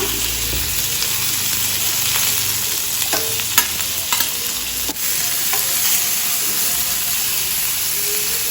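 Fish frying in oil in a pan for a traditional fish curry, a loud steady sizzle throughout with a few clinks and scrapes as the pieces are turned over; no speech.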